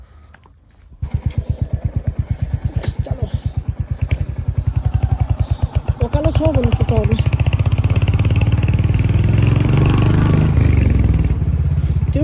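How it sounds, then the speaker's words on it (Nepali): A motorcycle engine starts and then runs loud and close, chugging steadily as it rolls downhill, with clattering from the bike and people speaking over it. "अब हाम्रो बाइक चाहिँ तल राख्ने भयो, तलदेखि जाने भयो"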